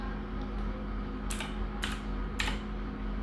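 Several quick, crisp keystrokes on a computer keyboard, spaced irregularly against a quiet background hum.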